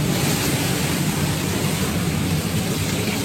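Rough seas and strong wind of 20 to 26 knots roar around a racing sailboat at sea, a loud, constant broadband rush of water and gusting air with heavy low rumble, no talk.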